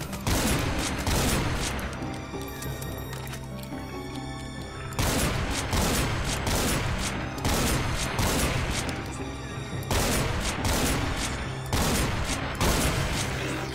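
Bursts of rapid gunfire in Brutal Doom with HD textures, loud and close, coming in repeated volleys with short gaps and crashing impacts between them.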